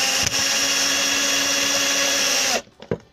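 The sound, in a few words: power drill piercing a piece for a slider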